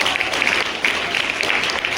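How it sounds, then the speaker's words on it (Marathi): Crowd at an outdoor school gathering applauding children who ride bicycles: dense, steady clapping from many hands, fairly loud and continuous throughout. "सायकल चालवणाऱ्या सगळ्या मुलांचं जोरदार टाळ्या वाजवून आपण अभिनंदन करू."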